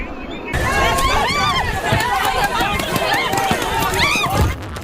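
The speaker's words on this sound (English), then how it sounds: "The crowd runs as canisters of gas hit the ground off Laguna Road" A protest crowd scatters and runs off Laguna Road as tear gas canisters land, with a continuous babble of shouting voices, scuffling footsteps and sharp bursts of noise throughout.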